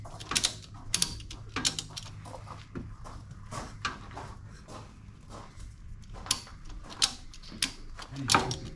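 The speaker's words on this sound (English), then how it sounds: "I'm going to try and ratchet strap them to pull them into each other" A ratchet strap is cranked tight on a Subaru Forester muffler, giving sharp, uneven clicking ratchet strokes with brief pauses between them over a quiet background.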